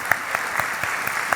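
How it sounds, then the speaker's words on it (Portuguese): A church congregation gives a round of applause for its re-elected pastor, with a sparse, moderately loud patter of claps and a few distinct louder hits standing out, and no talking. "Uma salva de palmas para o nosso pastor"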